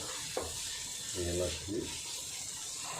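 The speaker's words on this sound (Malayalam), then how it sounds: "ഇതിൻ്റെ പച്ച ചുവ മാറാൻ വേണ്ടി നമ്മൾ ഇളക്കി ഇങ്ങനെ ചുവ മാറാൻ വേണ്ടി ഇളക്കി" Ground fennel and ginger masala frying for chicken varattu, stirred in a pan with a steady soft sizzle throughout and a few light scraping strokes; a voice is faintly present.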